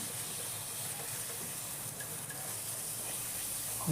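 Potato pieces fry in hot oil in a pan, giving a steady, even hiss that stays unbroken throughout at moderate loudness, with a brief clatter at the very end.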